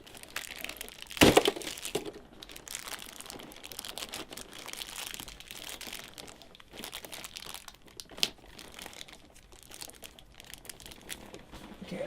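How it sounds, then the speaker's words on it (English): Plastic wrap crinkles and rustles close up as it is pulled off the boots of a sixth-scale Hot Toys Anakin Skywalker figure, with one louder crackling burst early and quieter handling noises after. "let me go ahead and move the plastic off his boots here"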